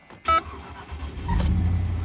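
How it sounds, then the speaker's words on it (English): A Range Rover engine cranks and fires up after an electrical fault, a short starter whirr followed by a steady low idle rumble that settles in close by, with no talking. "Let's see if it fires up."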